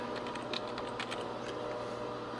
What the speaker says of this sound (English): we're going to type in administrator